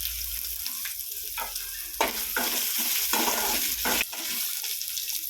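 Chana dal, green chilli and ginger fry in a pan with a steady sizzle. Repeated stirring scrapes and a few louder bursts as ingredients hit the hot oil run throughout.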